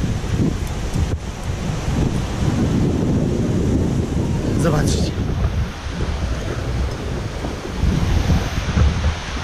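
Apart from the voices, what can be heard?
ocean waves and wind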